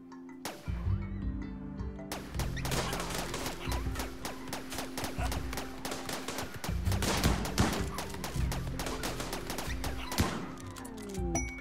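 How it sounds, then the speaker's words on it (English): Gauss rifle fire during a caravan battle against manhunting French bulldogs in a snowy RimWorld game, with rapid overlapping shots and impacts forming a dense, continuous barrage with brief gaps, loud and close. "Let's see the Gauss rifle in action."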